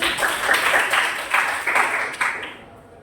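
Students in a classroom give a short round of applause for a classmate, several bursts of hand clapping rising and falling close by before trailing off into quiet.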